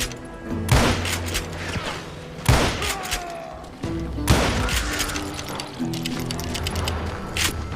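Gunfire in the Western shooter Call of Juarez Gunslinger: three loud, sharp shots spaced over several seconds, each ringing out briefly, with a low game-music drone and ambient layers underneath throughout.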